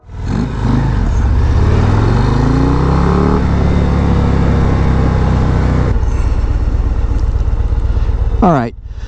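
A 2022 Harley-Davidson Street Glide ST motorcycle engine rumbles loudly and continuously up close, revving up and settling into a steady throbbing idle.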